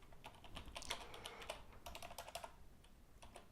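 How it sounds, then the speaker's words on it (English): Quiet, close keystrokes on a computer keyboard in short uneven bursts with brief pauses between them, and no talking. "I need to make sure I'm typing everything correctly."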